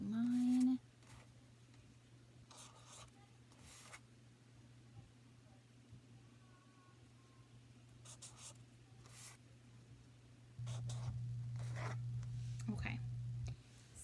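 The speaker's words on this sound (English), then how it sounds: "Let me just finish writing mine." Pen or pencil writing letters around the edge of a paper circle for a homemade word wheel: short scratchy strokes in separate bursts, close and fairly quiet over a steady low hum.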